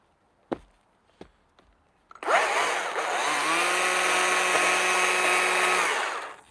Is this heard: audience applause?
no